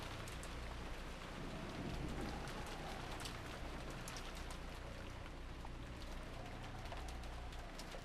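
Steady rain with a hint of wind in the visual novel Umineko, a continuous soft hiss that stays faint and even throughout, with no voices.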